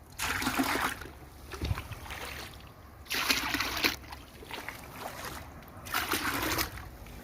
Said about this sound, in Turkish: biraz daha su ekleyelim